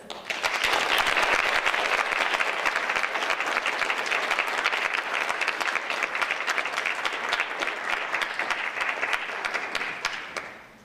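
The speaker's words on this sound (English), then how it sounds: "Let's give a very, very long and hard round of applause to all our 6 wonderful judges." A dense, steady round of audience applause for the six judges at a Distinguished Young Women program in Brookfield-Elm Grove, continuous clapping that holds for about ten seconds before fading.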